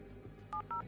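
A phone is dialed with two short DTMF keypad tones in quick succession, faint and close, over a low background hum.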